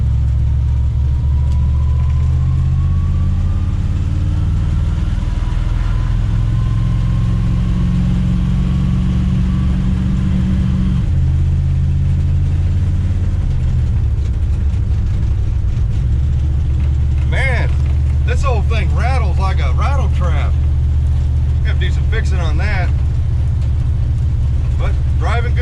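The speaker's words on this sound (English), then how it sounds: "Man, she makes a lot of rattling noises." A 1970 Plymouth Duster 340 race car drives with a deep, loud engine rumble that shifts as it changes speed, and bursts of metallic rattling come up near the end.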